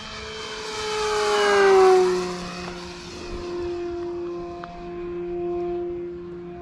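An E-Flite F-16 model jet makes a high-speed pass, its steady electric-ducted-fan whine swelling loudly as it approaches and then holding a sustained tone as it passes by and moves on.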